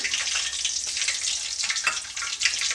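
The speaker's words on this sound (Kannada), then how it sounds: "ಎಣ್ಣೆ ಚೆನ್ನಾಗಿ ಕಾದಿದೆ ನಾನಿವಾಗ ಒಂದು ಸ್ವಲ್ಪ ಸಾಸಿವೆ ಹಾಕ್ಕೊಳ್ತಾ ಇದ್ದೀನಿ" Mustard seeds crackle and sizzle in hot oil in a pan, a dense, even, close-up hiss with fine popping throughout.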